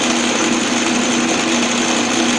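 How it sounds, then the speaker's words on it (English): A center drill cuts a center hole into the end of metal stock on a lathe. A steady, loud, high whine with a constant hum runs throughout and carries no talk. "let's put a little center hole in here that maybe won't wobble around or anything"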